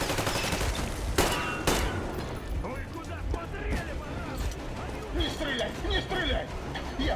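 Gunfire from teammates in the video game Metro Exodus: dense, continuous rapid shots crackle throughout, with sharper bursts near the start, while someone talks over the shooting.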